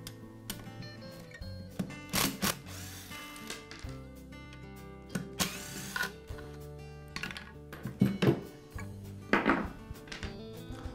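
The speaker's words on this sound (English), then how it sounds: "The auxiliary handle is secured to your saw with 4 screws, and I'll begin by removing them." Screws are backed out of the auxiliary handle of a Skil circular saw, producing sparse, close clicks, taps and short ratcheting bursts of a driver and metal parts, with a faint steady tonal hum underneath.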